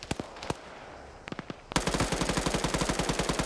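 In a PvP shooter game, a few scattered gunshots give way to sustained rapid machine gun fire, a loud, close, evenly spaced burst of rounds running to the end.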